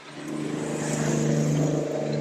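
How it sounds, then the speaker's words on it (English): Stock cars roaring around an oval track, a loud sustained engine drone that swells as the pack heads onto the back straight, with no voices present. "as the cars head on to the back straight"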